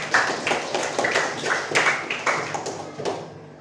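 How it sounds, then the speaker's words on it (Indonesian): Students in a classroom clap for a student group in a short, uneven burst of hand claps with rhythmic accents, close and fairly loud, fading out at the end. "Kasih tepuk tangan untuk kelompok 4."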